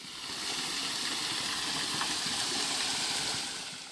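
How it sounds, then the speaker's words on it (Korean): Rushing water from Eungam Falls, a small waterfall on a forest trail, fills the scene as a steady, fairly loud broadband wash that holds evenly throughout with no voices. "조금 올라가니 갑자기 물소리가 커지는데요"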